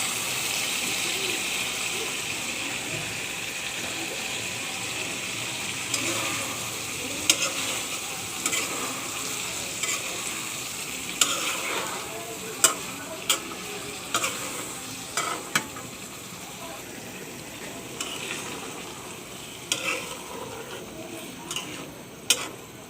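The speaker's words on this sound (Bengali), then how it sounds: "মশলা কষানো হয়ে গেছে। এর মধ্যে এখন মাছের ডিমগুলো দিয়ে দিচ্ছি।" Fish roe fries in cooked-down spice paste in a pan, giving a steady sizzle broken by repeated scraping and clicking strokes of a spoon that grow sharper and more frequent over time, with no talking.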